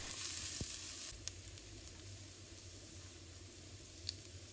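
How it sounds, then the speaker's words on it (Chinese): Minced garlic hits hot oil in a wok and fries, producing a quiet, steady hiss of sizzling with a couple of small clicks from the pan. "油热之后呢，把蒜末放入锅中，把它炒出香味"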